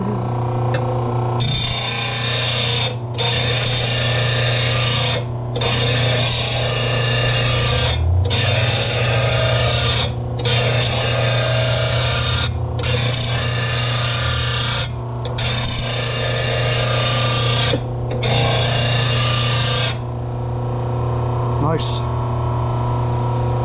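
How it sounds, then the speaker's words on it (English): Dull blade from a Troy Bilt TB110 push mower being sharpened by hand with a file, giving about nine loud, steady rasping strokes in a regular rhythm with short pauses between them, over a constant low hum. "Let's go over here and sharpen it. Sharpen the blade."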